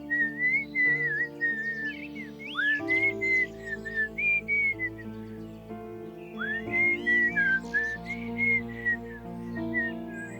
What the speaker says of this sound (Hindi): मैंने पहली बार तुम्हें सीटी बजाते हुए देखा है